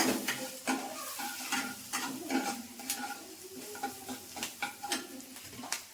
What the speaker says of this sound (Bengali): তো এইটাকে আমি নেড়ে নেব।